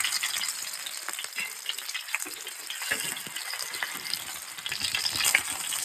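Fish frying in a pan over a low flame, a close, continuous crackling sizzle with scattered pops and occasional stirring clatter.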